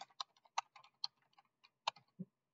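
Quiet keystrokes on a computer keyboard as a command is entered, a quick irregular run of about a dozen light clicks over a couple of seconds, close and alone.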